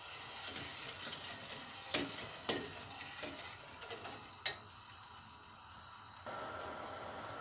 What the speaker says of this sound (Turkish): Şöyle bir karıştırdıktan sonra kaynamasını bekliyoruz.